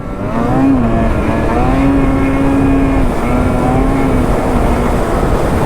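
Ski-Doo Backcountry XRS 850 Turbo snowmobile engine revving close and loud, its pitch rising and dipping in waves over a gritty continuous roar, with no speech.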